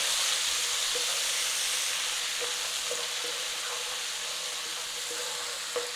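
Garlic and ginger frying in a pan for a mushroom madras, a steady close hiss and sizzle with occasional faint stirring clicks and no talk.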